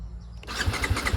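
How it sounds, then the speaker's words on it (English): A 2022 TVS Apache RR310 BS6 motorcycle engine starts in neutral, a short crank that catches and rises into a loud, close, throbbing idle. "let's turn it on."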